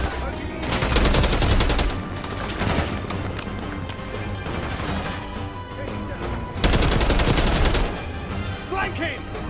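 Call of Duty Black Ops 6 gunfire in loud, rapid automatic bursts. Dense volleys come at the start and again near the middle, with scattered shots between them, and talk is mixed in.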